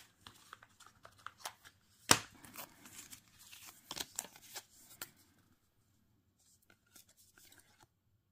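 A card is drawn from a 77-card luxury tarot deck in quiet close-up, with soft shuffling and sliding of card stock, one sharp snap, and scattered light crinkles that fade to faint touches.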